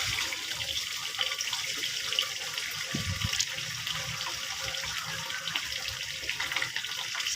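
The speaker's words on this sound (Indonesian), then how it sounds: "Batunya kita cuci dulu." Stones for terrazzo being washed under running water, a continuous close splashing hiss with occasional clattering of stones, with no voices.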